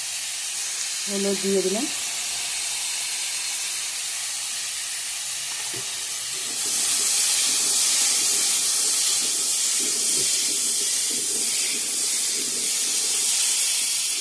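Soybean chunks fry in a pan with a steady hiss that grows louder and fuller partway through; a voice speaks briefly near the start.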